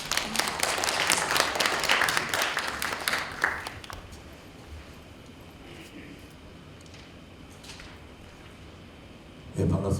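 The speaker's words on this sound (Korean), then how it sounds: "큰 박수 부탁드립니다" Audience applause welcoming a speaker to the stage at a Korean cultural center presentation, a dense burst of clapping for the first few seconds that fades into a quieter room with faint murmurs.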